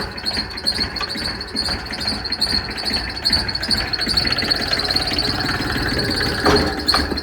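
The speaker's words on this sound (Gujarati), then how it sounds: "આપણો નવો ટ્રેક્ટર" A new tractor engine idles close by with a steady, even rumble and a faint high whine, running continuously without a break.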